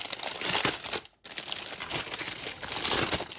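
Packaging for a round diamond painting kit crinkles and crackles up close in dense bursts, stopping for a brief silent moment near the first second before the crumpling resumes.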